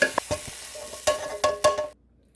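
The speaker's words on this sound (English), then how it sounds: "Spread the onions around." Browned onions scraped and spread around the crock of a slow cooker, a few distinct scraping strokes of a utensil with short pauses between them, close and moderately loud, ending abruptly in silence.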